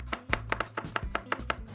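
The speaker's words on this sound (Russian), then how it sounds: "Подготовленные таким образом огурцы разрезают на тонкие такие пластинки, наискосок." A knife slices cucumbers into thin diagonal pieces on a cutting board, making about eight crisp, evenly spaced chops, close and moderately loud, with no talking.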